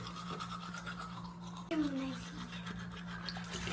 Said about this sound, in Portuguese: vamos escovar o dente